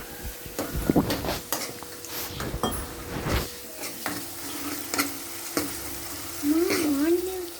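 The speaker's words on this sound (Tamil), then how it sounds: "வெங்காயம் சிவப்பாகிற வரைக்கும் மிக்ஸ் பண்ணிக்கிட்டே இருங்க" Onions frying in a pan for a simple Tamil potato curry, stirred with a spoon: a steady close sizzle with intermittent scraping and clinks of utensil against the pan throughout.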